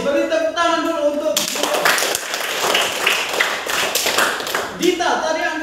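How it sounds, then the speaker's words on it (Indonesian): Students in a classroom clap for a classmate during a lesson, a short burst of hand claps framed by a speaking voice before and after, moderately close. "Beri tepuk tangan dulu untuk"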